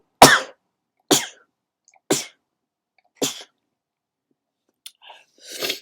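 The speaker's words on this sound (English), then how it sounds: "I'm going to sneeze." A person sneezes four times in a steady rhythm, each burst sharp and close, then gives a brief sniff and a fifth, softer sneeze. Quiet gaps separate the sneezes.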